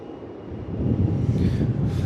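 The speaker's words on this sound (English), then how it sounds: "Out come the reversers, get into it, full noise, stand them up." An airliner landing at Melbourne Airport deploys its thrust reversers, a broad distant roar that swells steadily and holds loud, heard alone without talk.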